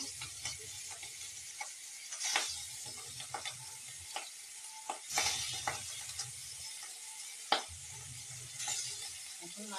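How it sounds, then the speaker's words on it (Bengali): Aire fish frying in hot oil in a home kitchen, a faint steady sizzle with scattered crackles and bursts of scraping as the fish is moved in the pan, no talking. "এখন মাছটাকে আমি লাল করে ভেজে নেব"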